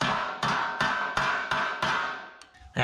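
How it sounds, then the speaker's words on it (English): Metal body work on a 1967 Toyota pickup: a hammer strikes sheet steel against a dolly in six evenly spaced, ringing taps, close and sharp, each decaying briefly before the next, ending with a couple of lighter knocks. "Quick little hammer and dolly work right here."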